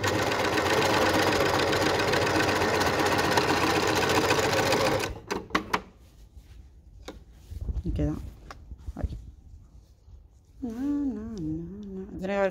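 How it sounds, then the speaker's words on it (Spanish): A sewing machine stitches a curved trouser crotch seam, a steady, close mechanical whir for about five seconds before stopping, after which a person speaks briefly. "Y ahora sigo cosiendo el tiro, que también tiene curva, y trato de ponérselo a la máquina derecho."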